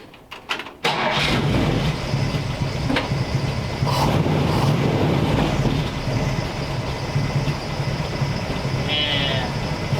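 A 1934 Ford Tudor hot rod engine with blown-out mufflers fires up after a brief crank and settles into a loud, raw, rumbling idle that runs steadily throughout, with no talking.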